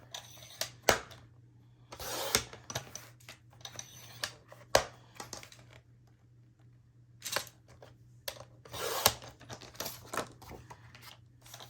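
Paper sheets cut for a handmade wedding album, heard as a series of crisp, close cutting and slicing strokes arriving in irregular bursts with quiet gaps between them, over a steady low hum and with no talking.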